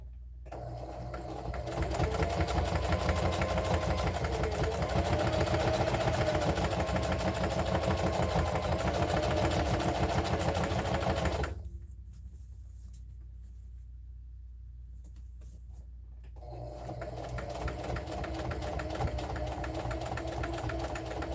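A sewing machine stitches a fabric mug rug in a steady, close mechanical whir, stops for a few seconds of near silence, then resumes its running hum.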